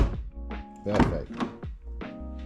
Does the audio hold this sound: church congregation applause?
no